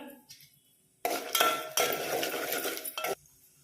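Peanuts and cashews roasting in a pan with dried chilies, heard as a burst of close metallic clinking and scraping from a spoon stirring against the pan, with quiet gaps before and after.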